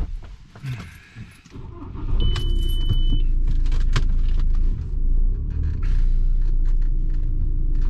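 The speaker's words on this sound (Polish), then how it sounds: "podjedziemy sobie troszeczkę do przodu" Car engine running in a workshop as the car is driven slightly forward onto a lift, a close steady rumble with some clicks and metallic jangles at the start.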